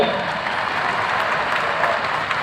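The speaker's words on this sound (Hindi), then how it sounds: "एक बार आर्मी को भी धन्यवाद दीजिए ताली बजा करके" A crowd at a Hindu yajna fire-ritual gathering applauds steadily, a dense, even wash of many hands clapping.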